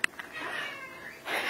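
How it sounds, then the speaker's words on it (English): A house cat meows in a home setting during a work-from-home news broadcast. A short chirp comes first, then one drawn-out, wavering meow, close and clear, with no talking over it. "Kitty."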